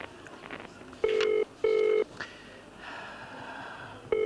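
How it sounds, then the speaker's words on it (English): A telephone ringing down a phone line, heard as two long double-tone rings in succession with a third starting at the end, against a quiet hiss and faint background noise. "Oh, it's ringing, that's good."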